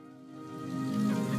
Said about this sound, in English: There's a lot of rain going on.